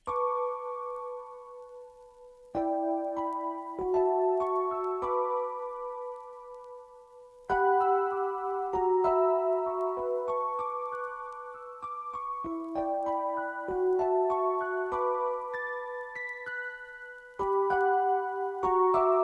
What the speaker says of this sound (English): I layered once more with the piano from Keyzone,